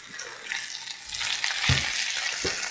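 Potatoes and peppers sizzle in a hot pan while a utensil stirs and turns them, a continuous frying hiss broken by a few soft scraping thumps, close and with no one talking.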